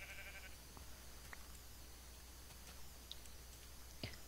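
Sheep in the Minecraft video game give faint, brief bleats scattered over quiet background noise, with no speech.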